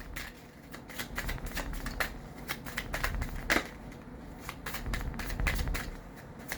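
Tarot cards being shuffled by hand in repeated quick riffles and snaps, crisp and close, with short pauses between bursts and no talking.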